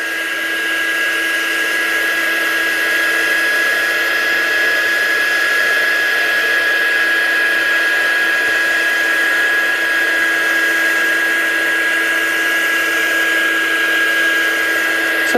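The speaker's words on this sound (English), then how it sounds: "My gun doesn't sound too healthy." An embossing heat gun used for crafting on patterned paper runs continuously, a loud steady whine and whirring blower hiss with a sharp high tone, close and unbroken throughout.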